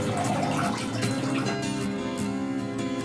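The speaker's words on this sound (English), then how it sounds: "pour the urine off into the toilet." Urine pours from a tipped catheter bag into a toilet, a steady, even splashing trickle of liquid into water lasting a few seconds, close and without talk.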